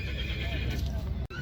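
A two-year-old English colt neighs at an outdoor livestock market, a loud whinny over steady crowd murmur and distant hoof clatter, with a brief dropout near the end.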